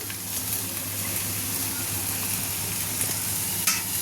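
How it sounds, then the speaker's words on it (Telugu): Bitter gourd skin frying in a pan, a steady close sizzle and crackle of hot oil with faint stirring scrapes and a single sharp clink near the end. "ఇది కొంచెం ఫ్రై అయినట్లుగా వరకు కొంచెం ఫ్రై చేద్దాం."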